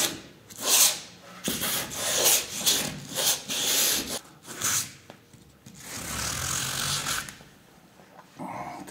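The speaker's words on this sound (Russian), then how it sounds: "наждачечку" Sandpaper rubs ragged edges during installation of interior light lines, producing repeated rasping strokes in an uneven back-and-forth rhythm, loud and close, with a few short pauses between passes.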